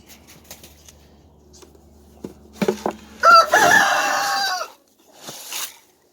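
Young backyard rooster crowing once, a strained rising call close to the mic, preceded by a few soft clucks and light scratching, followed by a short trailing note.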